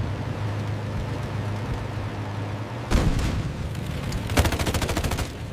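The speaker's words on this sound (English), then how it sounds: "The German pilot fires again as Dave, this time with machine guns alone." Machine-gun fire from a German fighter plane in an air attack on a P-47 Thunderbolt, rapid loud bursts of rattling shots breaking out over a steady engine drone, with a second burst following shortly after.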